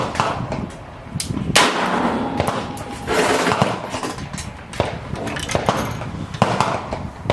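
Bushmaster ACR rifle shots ring out toward a steel target 750 yards away, a series of sharp cracks and clangs spread across the clip, close and loud, with no talk.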